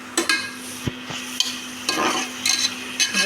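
Tomatoes sauté in hot oil under a soft, steady sizzle while a spoon stirs and scrapes the pan in a series of short, irregular strokes, heard close and with no voices.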